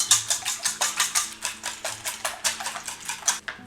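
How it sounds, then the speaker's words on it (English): A whisk beats five salted and peppered eggs in a bowl, a fast steady run of metallic clinks and scrapes, close and fairly loud, with no talk. "we're going to whisk them up really well"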